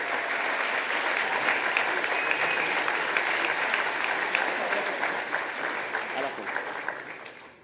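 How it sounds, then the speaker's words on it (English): An audience at a hacking conference breaks into sustained, dense applause that holds steady and then gradually thins out toward the end. "please applaud"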